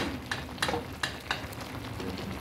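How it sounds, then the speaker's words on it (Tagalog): Asparagus being stirred into a pan of cooking fish paksiw, a soft sizzle and simmer broken by four sharp scraping clinks of a utensil against the pan, close up. "ihahalo na natin yung ating asparagus"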